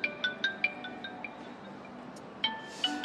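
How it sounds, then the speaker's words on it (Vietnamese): A telephone rings with a melodic ringtone in a TV drama scene: a run of bright electronic chime notes, pausing and then resuming, moderately quiet against a soft background. "Điện thoại kìa."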